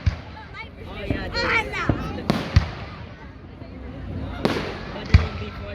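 Fourth of July fireworks in Rancho Cordova, Sacramento, California: several sharp bangs and crackling pops at irregular intervals over an outdoor crowd's murmur and nearby voices.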